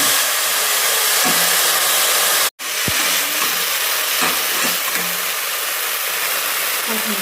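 Chigal leaf greens roasting in a dry pan without oil give a loud, steady sizzling hiss that cuts out briefly near the middle and then resumes, with a voice faintly underneath.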